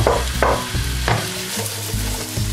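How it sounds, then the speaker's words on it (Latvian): Sliced, peeled apple wedges fry in a pan for a pork belly dish, giving a steady close sizzle with intermittent scraping and clacking as the pieces are stirred and moved around. "Tagad šajā pannā liekam iekšā sagrieztos ābolus."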